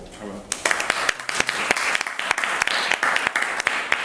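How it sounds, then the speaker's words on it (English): A room full of people applauding at an academic talk on Europe's borders, with dense clapping that starts abruptly and continues steadily, some sharp individual claps standing out nearby. "join me for a round of applause"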